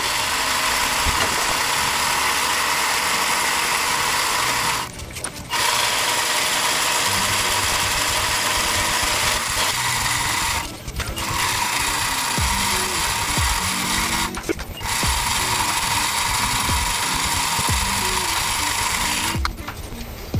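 A power drill spins an RC car ball differential during break-in, giving a loud, steady ratcheting mechanical whir that cuts out briefly three times in short pauses before resuming.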